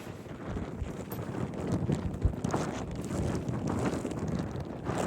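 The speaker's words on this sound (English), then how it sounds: "Boy, that wind is bad today." Strong gusty wind buffeting the microphone outdoors while riding to gather cattle, a continuous low rumbling roar with a few sharper thumps and no speech.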